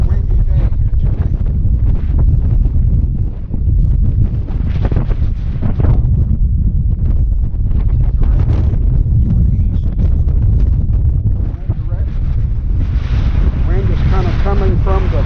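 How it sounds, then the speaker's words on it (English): Strong northeast wind gusting across a sturdy dock at an RV park in Malabar, Florida, roaring and buffeting the microphone continuously with rumbling low-end noise, water and waves faintly beneath. "it is definitely a windy day here today"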